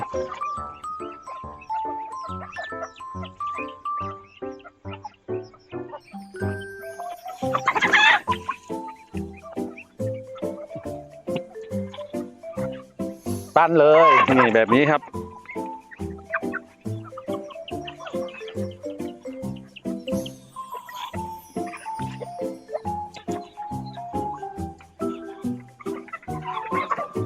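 Chickens being fed rice bran cluck and call repeatedly up close, with a couple of louder squawking bursts, while someone speaks intermittently over them.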